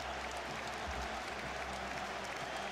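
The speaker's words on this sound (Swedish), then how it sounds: "Men Hammarby-publiken jublar." A Hammarby football crowd roars after a goal, a dense, steady wash of cheering and applause filling the stadium throughout, with no voices standing out.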